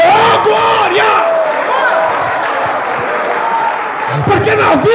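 Church congregation clapping and shouting praise together, loud rhythmic claps under overlapping excited voices, building again toward the end.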